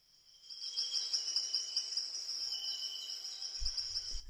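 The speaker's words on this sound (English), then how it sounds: "Got a jungle sound in there. I like putting that in there. It's just birds." Jungle ambience of insects and birds tucked low beneath a dance music track in the studio, a steady high cricket-like trill with scattered chirps running throughout, joined near the end by low thumping beats.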